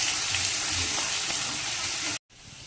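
Chopped ginger and garlic fry in a pan for chilli chicken, giving a loud continuous sizzle that cuts out abruptly for a moment and then resumes more quietly.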